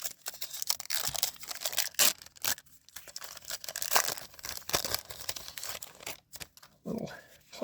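A pack of baseball trading cards is ripped open up close, sharp tearing and crinkling of wrapper and plastic in irregular bursts, with no voices.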